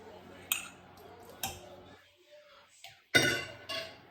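A spoon clinks against a bowl while vanilla is stirred into divinity candy, with a few sharp, separate knocks and scrapes close by at an uneven pace.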